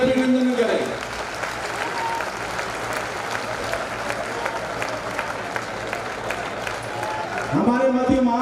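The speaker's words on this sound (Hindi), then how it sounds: "जोरदार तालियों की गड़गड़ाहट के बीच में माननीय राज्यपाल महोदय का स्वागत करें, अभिनंदन करें।" An audience applauding to welcome the state governor at a public reception, a loud, sustained wash of clapping across the hall while a speaker talks at the start and end.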